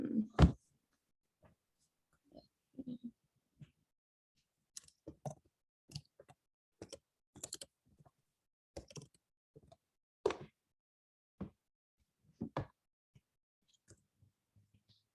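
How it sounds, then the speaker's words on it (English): Someone types a hashtag on a keyboard, producing sparse, quiet key clicks and taps in irregular bursts across a mostly silent room. "I'll actually type it here for everybody."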